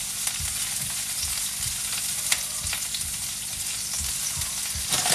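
Beef sizzles and fries steadily in a pan with onions for a stir-fry, a close, continuous crackle with occasional stirring clatter and no talking.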